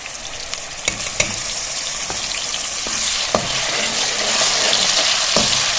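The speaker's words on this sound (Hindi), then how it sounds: "अदरक लहसुन को फ्राई होते हुए 2 मिनट हो गए हैं" Ginger and garlic sizzle and fry in hot oil, a steady crackling hiss with occasional sharp pops and stirring clicks that grows slightly louder toward the end.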